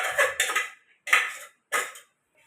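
Dishes, pots and pans clatter in a home kitchen as stacked utensils wait for washing, with four sharp metallic knocks and scrapes at uneven intervals, close and fairly loud, with short silences between.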